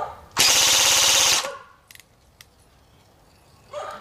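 An SRC full metal RPK airsoft gun fires one sustained full-auto burst at around 1000 rounds per minute, a loud, dense rattle lasting about a second before it cuts off, leaving a few faint clicks.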